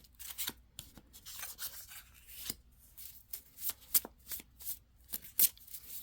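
A tarot deck is shuffled up close, with a steady run of riffling, flicking card sounds and a few sharper snaps, quiet and alone with no talking.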